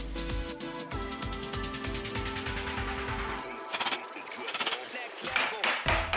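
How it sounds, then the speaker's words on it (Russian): Chisel tapped to knock excess wood out of a slot while building a loft-style night lamp, with a run of close, sharp rhythmic knocks that give way to a few brighter scraping strokes near the end. "Стамеской аккуратненько выстукиваем лишнее"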